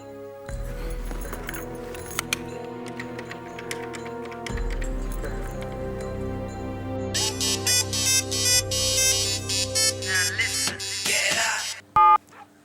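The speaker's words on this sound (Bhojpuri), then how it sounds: "शंकर के ही फोन लगावल ठीक रही।" A telephone ringtone plays in a Bhojpuri TV serial scene as a call is placed, with a sustained melodic tone and then rapid beeping bursts, ending in a loud final blip.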